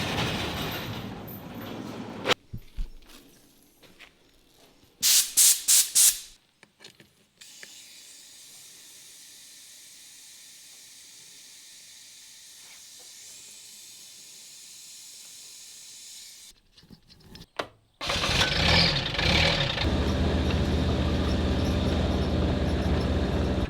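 Air hisses steadily into a tyre that has been going flat overnight, a long even stream of about ten seconds framed by louder clunks and bursts of handling noise at the start and end.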